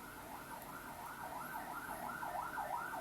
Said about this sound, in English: oh, that's siren, that's confirmation if you hear that.